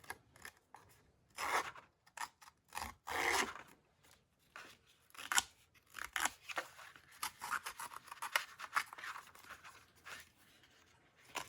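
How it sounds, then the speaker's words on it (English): Edges of craft cardstock being roughed up by hand for a bee-themed pocket, a run of close, uneven scraping and rasping strokes in bursts with short pauses between. "So I'm just going to rough up the edges here"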